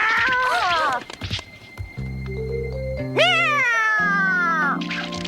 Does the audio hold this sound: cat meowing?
yes